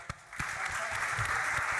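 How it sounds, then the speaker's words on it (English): Audience applause for a presenter at a global malnutrition panel session, a steady broadband wash of clapping that swells in after a brief quiet start and holds evenly to the end. "Please clap for Eric."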